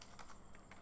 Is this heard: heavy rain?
no